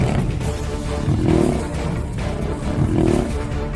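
Lions roar and growl while fighting over dominance, three against one, with two swelling roars close by over a continuous rumbling snarl.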